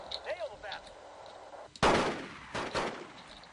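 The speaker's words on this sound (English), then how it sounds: "We can see that they're firing out of multiple different houses there, multiple angles." Video game infantry fire from several houses: scattered gunshots crack near and far, with a heavy burst of rapid fire in the second half, echoing over a low battlefield rumble.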